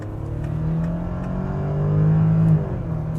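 A Volkswagen Touareg R plug-in hybrid in sport mode, running on combined power, accelerates hard from 50 to 100 km/h. The engine note hums steadily and swells gradually, peaking near the end before easing slightly. No one speaks.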